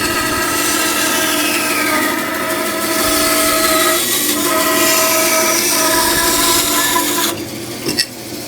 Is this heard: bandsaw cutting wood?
yes